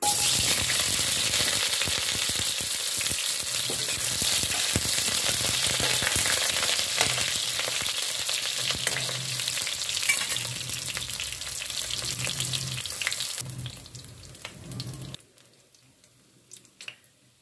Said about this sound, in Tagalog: Ngayon naman ay magluluto ako ng siomai, ipa-fried ko.